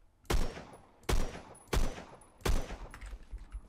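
Four loud sniper rifle shots in the Roblox shooter Phantom Forces, evenly spaced under a second apart, each a sharp crack with a short rumbling tail, no talk over them.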